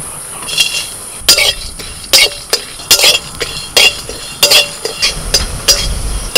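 Dry red chillies, coriander seeds, cumin, cinnamon, cardamom and cloves dry-roasting in a pan, with a utensil clinking against the metal in repeated sharp scrapes and taps over a faint background hiss.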